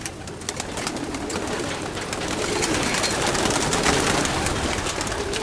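Many young racing pigeons gathered in a loft, expecting around two thousand birds for a one-loft race, make a dense, continuous murmur of cooing and rustling wings that stays steady and fairly loud throughout.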